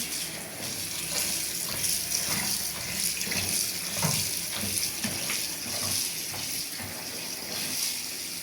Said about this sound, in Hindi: अच्छी तरह इसको साफ करते हैं, धोते हैं पूरे पानी से।